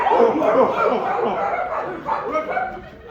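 A crowd of audience members imitating dog barks together, a loud, dense jumble of yips and woofs with laughter mixed in, continuous for a few seconds.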